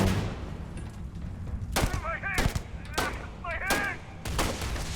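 Gunfire from a weapon in the video game Starfield rings out in several sharp, loud shots spaced across the moment, each followed by whining, warbling tones, with someone talking underneath.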